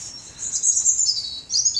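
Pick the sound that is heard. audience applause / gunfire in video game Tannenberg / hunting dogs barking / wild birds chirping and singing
wild birds chirping and singing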